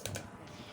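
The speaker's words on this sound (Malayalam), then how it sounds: "കടുക് പൊട്ടുമ്പോൾ" Mustard seeds popping in hot oil for a Kerala tomato curry give two quick, sharp crackling pops close together, faint and brief, then low background noise with no talking.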